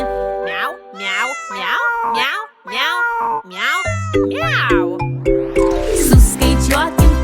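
Cartoonish cats meow repeatedly within a bright children's counting song, with high, sliding mews over music and a sung voice, ending in a louder chiming, jingling flourish.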